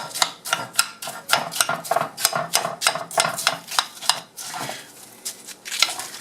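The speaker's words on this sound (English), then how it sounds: "we can now start breaking it up with a spoon since the liquid's basically gone" A spoon scrapes, taps and stirs through drying sodium acetate in a dish, giving a fast, irregular run of close clinks and crunchy scrapes that continues with no pauses.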